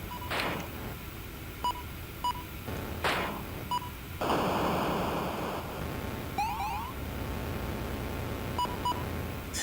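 Electronic game sounds from Battlezone on the Atari 2600, with short repeated radar beeps at intervals, a few sweeping tones and a noisy burst in the middle, no speech.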